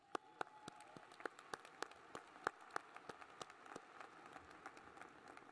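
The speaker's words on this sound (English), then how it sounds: "give yourselves a round of applause" Scattered, sparse clapping from a small number of people at a City Colleges of Chicago commencement ceremony, faint and distant with irregular individual claps spread over several seconds.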